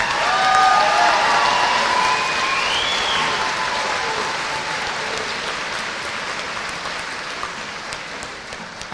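Graduation ceremony crowd applauding loudly in a large venue, with a few whoops or whistles early on and sustained clapping gradually easing toward the end.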